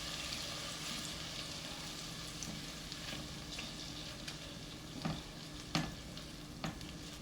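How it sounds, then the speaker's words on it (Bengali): Ground roasted spices (coriander, cumin, ginger, garlic, cinnamon and cardamom) are stirred and fried in ghee in a pan, giving a steady soft sizzle with occasional scraping stir strokes, fairly faint and with no talking. "দিয়ে এটা একটু নেড়ে কষাতে হবে"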